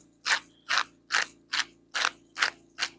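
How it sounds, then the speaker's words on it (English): A hand-turned Italian herb grinder grinding herbs for a toasted ravioli recipe, giving seven evenly spaced crunchy grinding strokes, close and clear over a low steady hum, with no talking. "you all know my Italian herb grinder that I just love. So I'll be grinding here for a minute"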